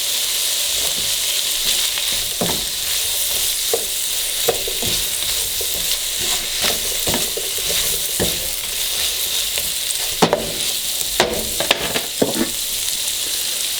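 Andouille and other jambalaya meat sear in oil in a pan with a loud, continuous sizzle, broken by scraping stirs and bursts of crackling that grow busier toward the end; no one speaks.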